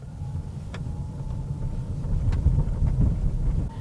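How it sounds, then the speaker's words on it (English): A Mercedes-Benz EQB 300 electric SUV rolls along a bumpy neighborhood road with potholes, patches and speed bumps, heard from inside as low road rumble with a few dull thumps and knocks, no talking. "let's take it down our neighborhood bumpy road with its potholes, patches, and speed bumps"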